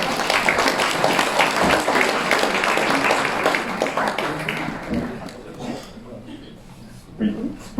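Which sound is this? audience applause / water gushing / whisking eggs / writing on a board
audience applause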